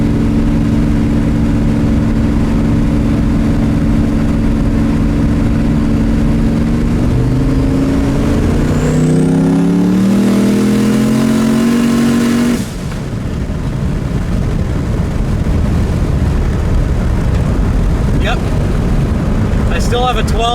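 A car with a DIY boost controller accelerates hard in third gear, its engine note climbing steadily in pitch, then a sharp gear change drops the tone into a rougher, loud roar with wind noise close by.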